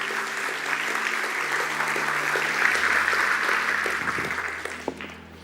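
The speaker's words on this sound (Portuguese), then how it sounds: "Dê o melhor aplauso que você pode dar ao Senhor." Church congregation giving an enthusiastic round of applause to the Lord in a Portuguese-language service, continuous clapping that swells and then fades over about five seconds, with a low sustained keyboard tone underneath.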